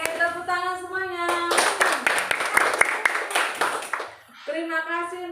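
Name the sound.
class clapping hands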